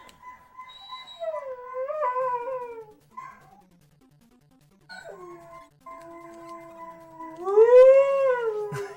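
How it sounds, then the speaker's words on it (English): Two household dogs howl together up close, long wavering tones rising and falling in a couple of drawn-out bursts separated by a quiet gap, the final howl swelling loudest and highest. "What do I get for listening to the dogs?"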